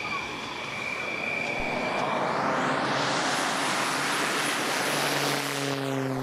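A Hellenic Air Force T-6 two-seat military trainer takes off at Tanagra air base for a 25 March parade, its engine roar swelling from a distant hum into a loud, broad rush, with whining tones sweeping as it passes.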